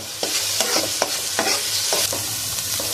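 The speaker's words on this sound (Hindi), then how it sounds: "थोड़ी भुनाई कर लेंगे।" Onions frying in ghee for a fish korma sizzle loudly and steadily up close while a spoon scrapes the pan in quick, uneven strokes, with no speech.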